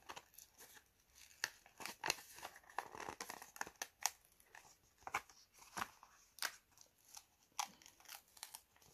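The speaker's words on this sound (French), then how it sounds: "je viens décoller ma petite découpe" Adhesive Smart Paper cutout peeled from its backing for a snowman shaker-dome craft, heard as a series of close, quiet crinkling and tearing rustles in irregular bursts, with no talking.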